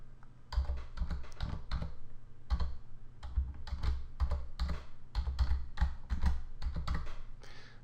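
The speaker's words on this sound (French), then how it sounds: "je rentre mon adresse email" Rapid bursts of keystrokes on a computer keyboard as an email address is entered, close and clear, coming in short uneven runs with brief pauses between them and no voices.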